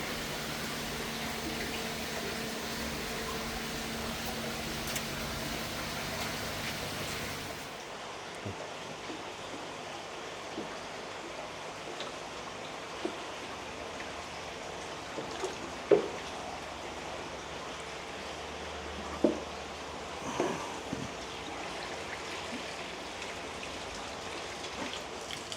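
Water drains steadily from an emptied koi pond, a broad splashing flow that cuts off abruptly after several seconds, leaving quieter drips and a few sharp knocks.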